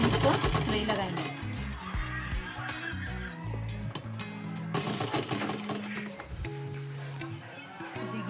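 A sewing machine stitches a simple dress along a marked line, its rapid mechanical clatter running steadily and close up with a few brief changes in pace.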